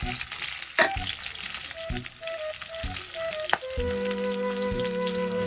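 Garlic and onion sauté in a pan with a continuous close sizzle, broken by spatula stirs and clanks. Faint tonal hums sit underneath, and no one speaks.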